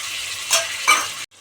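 Cut potatoes tipped into a pan of sautéed onions for a mushroom and potato kulambu, giving steady close frying sizzle with two stirring scrapes, then a sudden drop.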